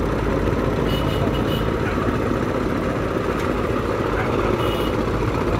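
A passenger launch moving slowly along a river at an ebb tide, its engine a loud, steady, unbroken low rumble close by, with no talk.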